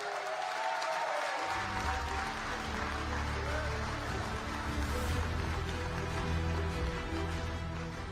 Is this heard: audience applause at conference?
yes